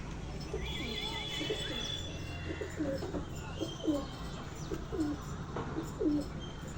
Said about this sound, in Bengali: মালবাই পায়রা